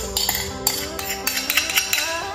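Utensil clinking against a bowl while mixing lemon blueberry cake batter, a quick series of close, sharp taps and scrapes over a quiet background hum.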